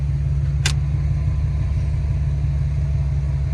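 A 1970 Ford Maverick engine idles in the snow, a loud steady low rumble with a slightly uneven pulse, broken once early by a brief sharp high click or squeak.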